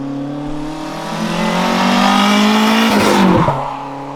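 A turbocharged Nissan Micra accelerates hard, its engine note rising steadily in pitch through the gear and then dropping sharply as it shifts, loud and close with no talk.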